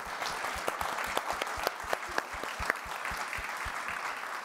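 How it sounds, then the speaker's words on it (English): Applause from an audience for a discussion panel, many hands clapping at a brisk, even pace with individual claps distinct, moderately close and steady throughout without speech on top. "a round of applause for our panel"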